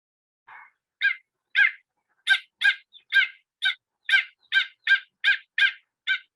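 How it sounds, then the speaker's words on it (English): A run of about fifteen sharp, yapping calls from a pied stilt, the poaka, a wetland bird of harbour edges, evenly spaced and loud, close by with no other sound. "So poaka, pied stilt"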